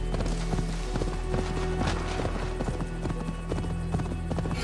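Galloping hooves pound rhythmically as a horse is ridden across the land in Assassin's Creed Valhalla, a steady, close clip-clop layered over a continuous low hum and music.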